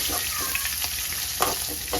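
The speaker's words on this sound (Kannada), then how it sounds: "ಅದನ್ನು ಹಾಗೆ ಫ್ರೈ ಮಾಡ್ಕೊಬೇಕು" A steady close hiss of sizzling oil with small pops and crackles as ginger fries in tempering oil in a hot pan.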